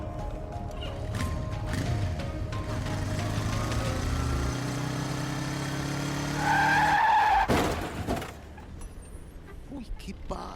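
Radio ad sound effect of a motorcycle skidding and crashing: a loud engine drone and long skid build for several seconds, then a sharp crash burst near the end, followed by quieter debris and background noise.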